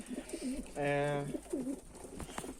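Pigeons coo softly nearby in low, rolling calls, one longer steady coo in the middle, with faint background noise.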